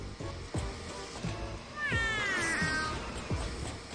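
Cat meowing in the video game A Hat in Time, a drawn-out meow rising and falling over rhythmic game background sounds, close and clear.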